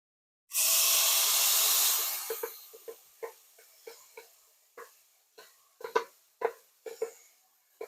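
A tomato mixture poured onto browned rice in a hot pan, starting with a loud burst of sizzling hiss that fades into scattered popping and crackling.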